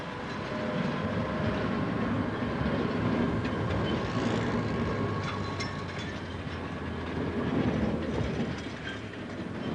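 A sugar cane train rolls along narrow rails through the town of Nambour, with a steady rumble, rhythmic clickety-clack of wheels and faint squeals, loud and close throughout with no talk.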